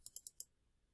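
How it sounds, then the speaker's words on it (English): Computer mouse clicked rapidly, four crisp, sharp, faint clicks in quick succession close to the mic, then quiet. "I will double click"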